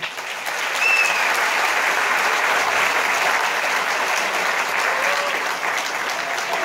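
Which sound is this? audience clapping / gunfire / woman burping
audience clapping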